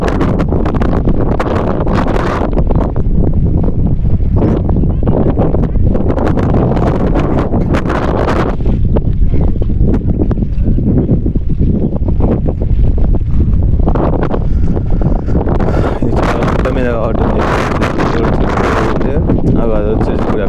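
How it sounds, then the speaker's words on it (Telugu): Strong wind sweeps across open fields around a 500-year-old Lakshmi Narasimha Swamy temple, buffeting the microphone in a loud, continuous roar that surges and eases, with muffled talking mixed in. "చుట్టూ పొలాలు, గాలి బాగా వస్తుంది"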